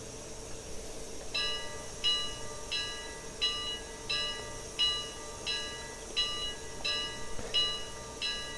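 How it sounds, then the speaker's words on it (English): A steam locomotive bell, a GN Brooks 4-8-0 in Train Simulator Classic, clangs steadily in an even rhythm, about a dozen strokes, over a low hissing rumble of the train. "Bell sounds pretty good."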